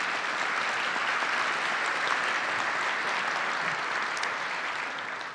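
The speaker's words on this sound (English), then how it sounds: "Let's give them a big applause." Steady, dense applause from a large crowd, loud and sustained throughout with no pauses, fading only slightly at the very end.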